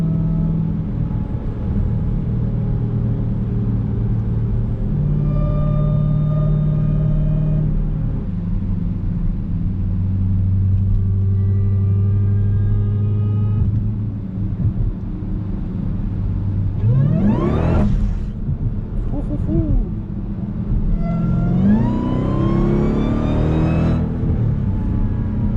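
A 1000 hp Dodge Durango Hellcat on Toyo Proxes tires drives along with a steady deep engine rumble inside the cabin, then revs hard twice with rising acceleration whines, loud and continuous with no talking.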